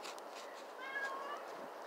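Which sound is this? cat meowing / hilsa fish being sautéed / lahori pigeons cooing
cat meowing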